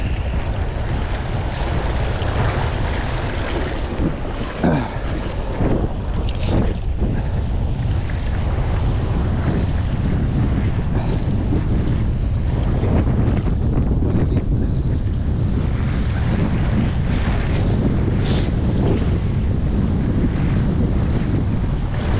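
Steady rush of wind buffeting the microphone over churning, splashing waves on a fish pond, loud and continuous throughout with no voices.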